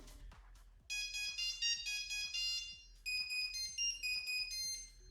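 A ringtone plays on a Nokia 1100, a bright, beeping monophonic melody in two repeated phrases with short pauses, clear and close.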